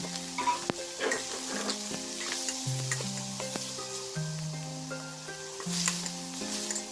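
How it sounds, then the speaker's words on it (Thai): Blanched squid stir-fried in a pan for a Thai basil squid dish gives a soft, steady sizzle beneath sustained tonal background music, with occasional light scrapes and no talking. "เอาปลาหมึกที่เรา ลวกตะกี้นะครับ เอามาผัดเลยครับผม"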